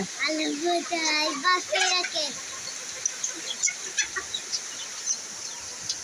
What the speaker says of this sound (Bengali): বড় মোরগ।